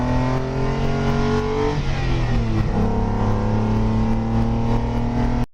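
Mercedes 300 SL Gullwing engine revving close up, a loud sustained engine note that dips and climbs again before cutting off abruptly at the end.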